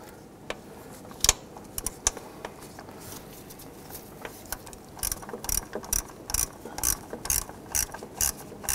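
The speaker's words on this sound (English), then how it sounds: "We've got our ratchet back on there." A ratchet clicks in short bursts while tightening the idle air control valve screws on a 1997-2006 Jeep Wrangler, with rapid close pawl ticks that grow denser and louder toward the end, alone without talk.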